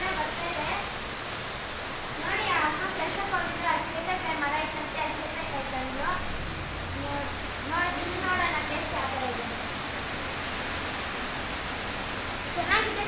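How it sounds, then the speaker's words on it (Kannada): Heavy rain roars steadily throughout while a person speaks intermittently over it. "ಮಳೆ ಎಷ್ಟೊಂದು ಜೋರಾಗಿ ಬೀಳ್ತಾ ಇದೆ"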